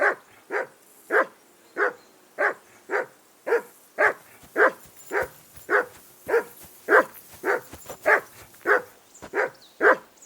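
A dog in the video game Kingdom Come: Deliverance II barks steadily in single evenly spaced woofs, about two per second, loud and close with no talking over it.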